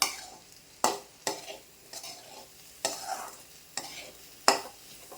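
A ground peanut mixture is stir-fried over a high flame, a soft sizzle punctuated by about eight crisp spatula strikes and scrapes against the pan at an uneven pace.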